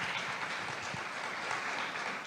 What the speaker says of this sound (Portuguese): Quem pode dar uma salva de palmas para Jesus aí